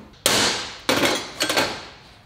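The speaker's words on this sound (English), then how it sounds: "start hammering on the other side" Hammer blows driving a rear wheel bearing race out of a hub on a Ford Super Duty pickup: three sharp, loud metallic strikes at an uneven pace, each ringing briefly before fading, with no talking.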